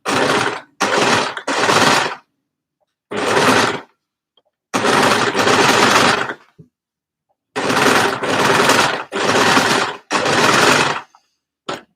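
A sewing machine stitching fabric for an edge-to-edge cardigan, running in loud, rapid bursts of a second or so, separated by short silences as the fabric is turned and repositioned.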